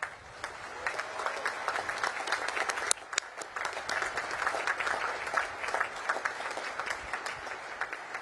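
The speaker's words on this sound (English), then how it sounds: "please join me in giving them a heartfelt round of applause" An audience at a Naval Academy commencement ceremony applauds, sustained dense clapping from a large crowd heard at some distance, with a brief louder clap burst midway and no speech over it.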